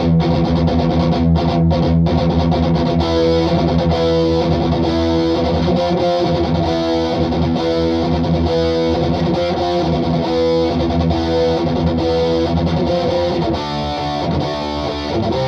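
Electric guitar reference tones through a Mesa Badlander 25-watt amp head: loud, continuous distorted chords and riffs with a dense sustained tone throughout, dipping slightly near the end.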